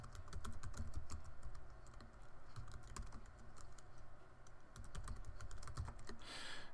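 Fingers typing on a computer keyboard, a quick uneven run of light clicking keystrokes in short bursts, close and fairly quiet, with no talking.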